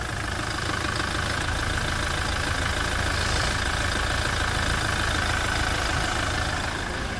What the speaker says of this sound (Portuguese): Olha a melodia do motor de 200 cavalos da Hilux.